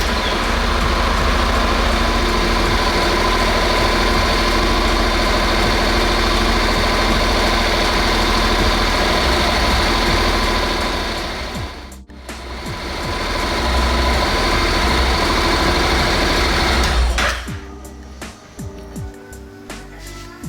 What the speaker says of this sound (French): laissez tourner le moteur quelques minutes